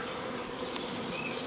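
A honeybee swarm buzzes in a steady, dense drone, close and continuous throughout with no pauses.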